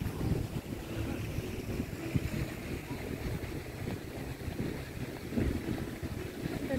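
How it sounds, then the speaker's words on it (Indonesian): Strong wind buffets the microphone at a high outdoor viewpoint, a steady loud rumbling roar with gusty surges throughout and no clear speech. "anginnya kenceng banget ya"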